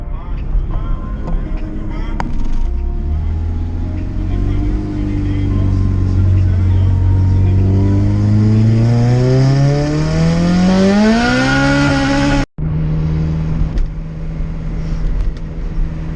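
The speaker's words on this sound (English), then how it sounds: "we're gonna go out and drive the car and see how everything is doing" A turbocharged Honda engine revs up through rising pitch as it accelerates, loud and close, then shifts abruptly and settles into a steadier drone.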